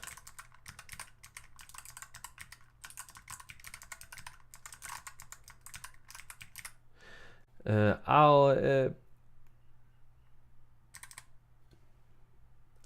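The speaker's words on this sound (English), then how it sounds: "cut now to a video of me just typing on it, so you can hear how the switches sound" Rapid clacky typing on a Planck mechanical keyboard with clicky switches, close and steady, briefly interrupted by a short spoken remark before the clicking resumes.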